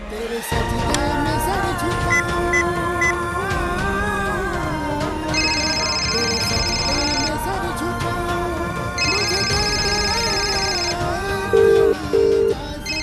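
A phone ringtone chimes in repeated electronic bursts over a dense music score in a TV drama, sitting mid-level in a busy mix.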